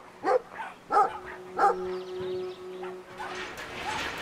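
A dog barks three times in quick spaced yaps, then whines and whimpers, inside the video game Brothers: A Tale of Two Sons, fairly quiet against a soft background.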